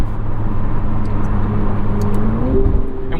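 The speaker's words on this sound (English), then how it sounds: "while this motor sounds very good, you can tell a lot of the sound and the noise is going toward propelling this vehicle. It's turbo noise, it's intake noise" A 2024 McLaren 750S engine running steadily, a continuous turbocharged drone with intake rush heard from inside the car, its pitch climbing slightly near the end.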